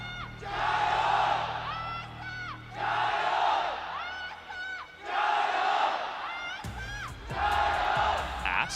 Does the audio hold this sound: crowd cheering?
yes